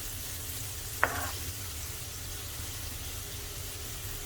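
A large onion fries in a pan for Sindhi egg curry, a steady, quiet sizzle with one sharp metallic clink of a utensil early on, and no one speaking.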